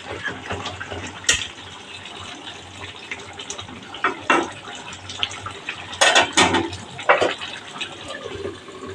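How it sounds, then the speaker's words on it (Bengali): A tap runs steadily while leafy greens are washed, with a constant splashing flow broken by several louder splashes and clatters as the leaves are handled, close by and without talk. "এগুলো বসাই আমি আবার শাকগুলো ধুয়ে নিলাম।"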